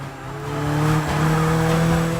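A race car drives hard with a steady engine drone, its tires squealing and skidding through a corner, loud and close throughout.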